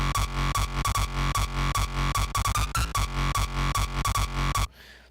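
Distorted electronic bass from a hyperflip-style breakdown plays alone, its volume rhythmically dipping in a steady pulsing pattern for several seconds before cutting off near the end.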